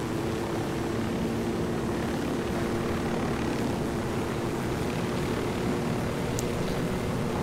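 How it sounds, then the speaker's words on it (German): A helicopter flying in Ghost Recon Wildlands gives a steady, unbroken engine and rotor drone at even loudness throughout, with no talking over it. "Ans Heli fliegen muss man sich auch erstmal dran gewöhnen."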